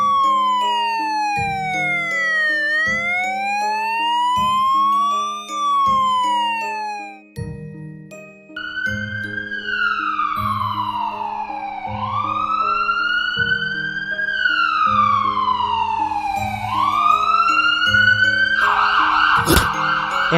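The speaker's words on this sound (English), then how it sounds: "Police car." A police car siren wailing in sweeping rising and falling tones over a bouncy synthesized backing tune with chiming notes, loud and continuous, ending with a brief jingle.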